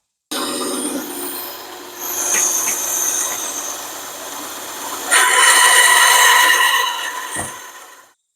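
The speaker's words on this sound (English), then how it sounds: "And I just do it on my little bandsaw." A small bandsaw cuts a long bevel through scrap wood: a continuous, fairly loud rasping whine that swells toward the end of the cut, then stops abruptly.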